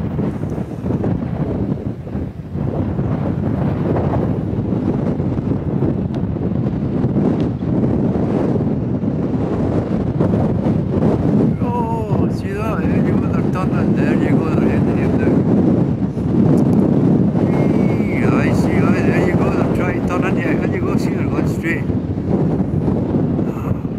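Strong wind buffets the microphone outdoors as young racing pigeons are released, a continuous rough rumble with gusts, while someone speaks over it.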